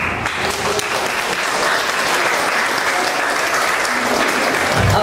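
Guests at a debut celebration give sustained, full applause, a steady wash of many hands clapping at once that stays loud and even throughout.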